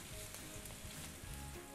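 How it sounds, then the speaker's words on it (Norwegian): Carrots sizzle and fry steadily in a pan while a Ukrainian fish soup is being made, a soft continuous crackle with faint stirring and no voices. "Og så tar vi gulrot. Og steker sammen."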